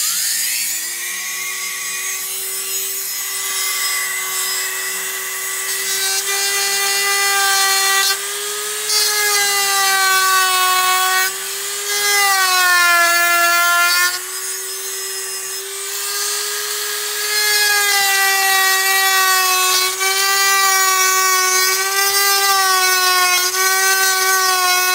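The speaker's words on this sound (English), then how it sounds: "Now we're just going to dremel this line here." A Dremel rotary tool cuts a line in an E-flite Viper Jet model airplane. It gives a loud, close, high-pitched whine for about twenty-five seconds, and the pitch dips and rises as the load on the tool changes.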